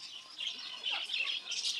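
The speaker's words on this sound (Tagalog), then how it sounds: "Tapos yung mga ibon." Several small birds chirp and tweet in a high, busy chatter in a mini zoo, moderately close and continuous.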